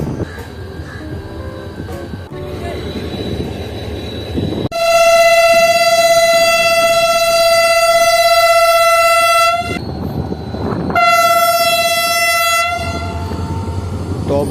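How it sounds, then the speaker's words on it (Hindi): The 150 Down passenger train leaves Bin Qasim railway station near Karachi, sounding two long, loud horn blasts, the second after a short break, over a steady rolling rumble. "तो 150 डाउन जो है ये भी निकल रही है बिन कासिम रेलवे स्टेशन से"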